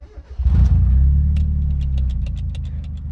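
A cheap, worn Mazda Miata cranks briefly, then its engine catches and settles into a loud, steady idle rumble with a faint ticking on top.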